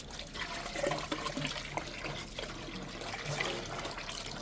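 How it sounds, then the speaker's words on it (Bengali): Rice for khichuri is washed by hand in water at an outdoor picnic cooking spot, giving a steady, soft sloshing and trickling with small splashes throughout. "এদিকে খিচুড়ির চাল ধোয়া হচ্ছে"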